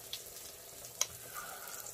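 Pork belly cooks in a hot pot at a mukbang meal, giving off a faint, quiet sizzle with a small click near the middle and no talking.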